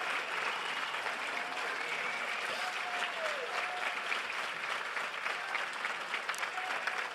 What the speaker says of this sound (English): If all of the Westhab staff could please stand for a round of applause